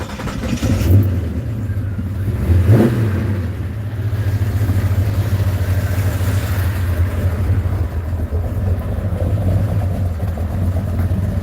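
A modified car engine idles roughly with a low, uneven rumble, briefly revving once before settling back into a lumpy, steady idle nearby.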